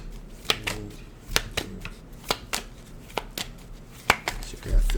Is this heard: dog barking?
no